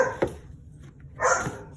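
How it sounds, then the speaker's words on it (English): A dog barks a couple of times nearby, short sharp yelps separated by a brief quiet gap. "if you can hear my dogs"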